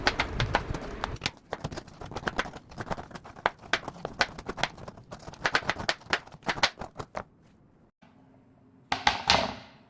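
A knife chops a block of jaggery in a home kitchen, giving a run of sharp, close, irregular knocks that thin out toward the end, followed by a short scraping burst. No one speaks.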